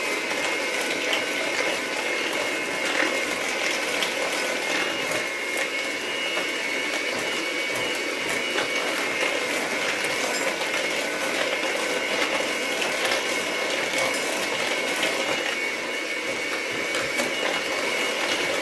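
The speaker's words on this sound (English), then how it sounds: "To mix the egg, no, the butter and the sugar until fluffy" An electric mixer beats butter and sugar in a bowl, a continuous whirring, rattling drone that holds steady and close for the whole stretch, with no voices.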